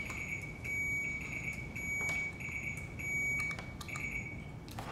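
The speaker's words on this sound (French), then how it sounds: "On va tester les buzzers encore pour être sûr qu'ils fonctionnent." Quiz buzzers under test give a steady high electronic tone that runs through much of the clip, broken by short clicks and taps, in a quiet room.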